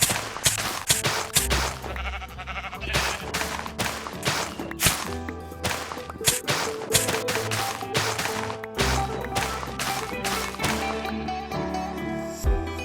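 Sheep bleat in a survival video game, repeated close bleats mixed with sharp thuds and cracks over a steady game soundtrack, with no talking.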